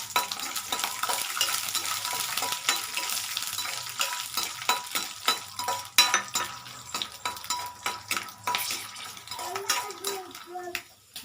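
Peanuts frying in a pan for a mint dish give a close, crackly sizzle with repeated quick pops and scraping stirs, ending in some louder clatter, with a voice faintly present in the background.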